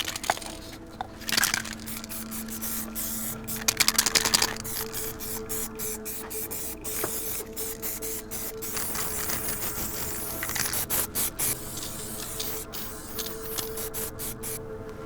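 A spray paint can hisses in bursts outdoors while a poster is put up, the aerosol rushing steadily and softly, with scattered rattles and clicks between sprays.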